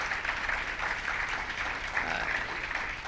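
An audience claps in a sustained, even round of applause at a governor's announcement at Greater Binghamton Airport, a dense patter of many hands that holds steady throughout.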